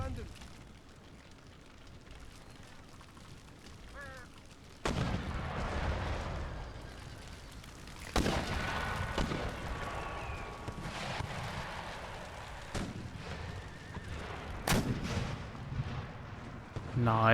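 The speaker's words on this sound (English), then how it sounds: "Some good shooting going on so far." In an Empire: Total War battle, gunfire and artillery crack and boom in scattered bursts over steady battlefield din, with several louder volleys standing out and someone talking over parts of it.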